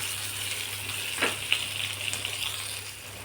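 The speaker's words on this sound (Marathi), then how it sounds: "अगदी कमी तेलावर आपण ह्या मिरच्या परतल्यात बघा." Masala-stuffed green chillies shallow-frying in very little oil give a soft, continuous sizzle, with a couple of brief clicks as they are turned.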